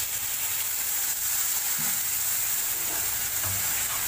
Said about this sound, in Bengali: জল দিয়ে আমি মশলাটা ভালো করে কষে নেব